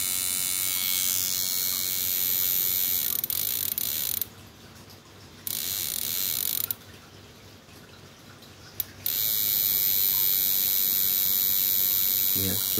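Homemade PDC inverter circuit for fish shocking runs with a steady loud electrical buzz and hum that cuts out briefly twice, then resumes.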